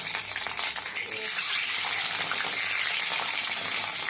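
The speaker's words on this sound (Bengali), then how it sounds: "আমি ডিমটা আলুটা ভালো করে ভেজে নেব" Eggs and potatoes fry in oil with a loud, continuous, spattering sizzle that swells early and then holds steady and close.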